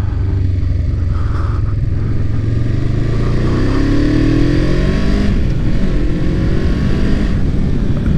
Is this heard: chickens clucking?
no